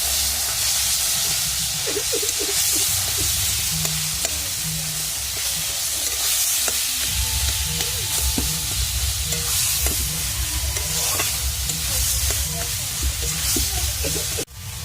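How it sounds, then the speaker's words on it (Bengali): Flat bean paste fries in hot oil seasoned with black cumin, giving a steady, close sizzle and hiss with scraping stir strokes running throughout. "তেল গরম হয়ে গেছে দিয়ে দিচ্ছি এর মধ্যে আমি কালো জিরে ফোড়ন এবার আমি সিম বাটাটা দিয়ে দেবো"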